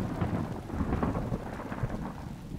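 A desert thunderstorm rolls in with steady, dense rain hissing across the ground, and low thunder rumbles underneath throughout without a break.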